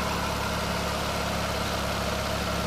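A 3.3-liter Toyota V6 in a 2004 Lexus ES330 idles smoothly and steadily, a constant low engine hum with no voices over it.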